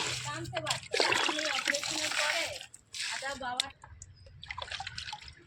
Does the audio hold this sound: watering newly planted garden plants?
yes